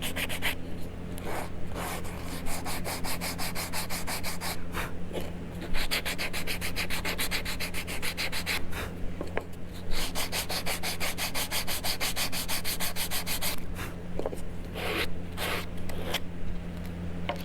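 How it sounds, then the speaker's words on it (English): Sandpaper rubs steadily against wood while a small mini picnic table is smoothed, a close, continuous scratchy rasp of rhythmic back-and-forth strokes with brief pauses and no talking. "I can take my finer sandpaper and make it so smooth"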